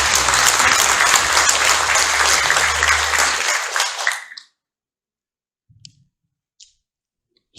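An audience at a White Cane Day ceremony applauds as a speaker walks up to the podium, with loud, dense clapping for about four seconds that stops abruptly, leaving a few faint clicks.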